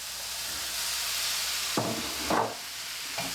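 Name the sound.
beef being added back into the pan, sizzling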